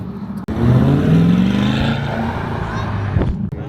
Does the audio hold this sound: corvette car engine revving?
yes